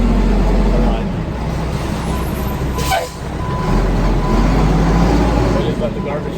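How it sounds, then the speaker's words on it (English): A loud garbage truck rumbles close by with a heavy, steady engine drone, a brief hiss midway and continuous roadway noise throughout. "We just let the garbage truck do its thing real quick. Yeah, that's a loud truck."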